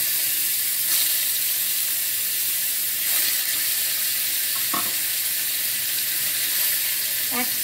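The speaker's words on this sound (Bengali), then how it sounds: "প্রথমে তেলটা গরম হয়ে গেছে, এবারে আমি মাছগুলো আস্তে আস্তে করে ছেড়ে দেব।" Pieces of katla fish fry in hot oil with a constant loud sizzle, broken now and then by faint clinks from stirring.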